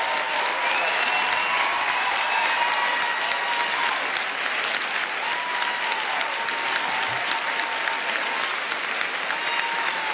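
A conference panel audience on gender-based violence in Africa claps loudly and evenly, a dense and sustained applause close by. A whistling tone rises and falls through it.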